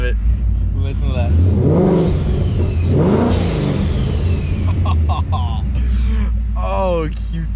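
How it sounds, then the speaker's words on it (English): A supercharged car engine, warming up on a baseline tune and held under 3,000 rpm, idles with a steady low rumble and then revs up twice in rising sweeps, with a whooshing bypass-valve release as each rev falls away. "I love the sound of that bypass valve."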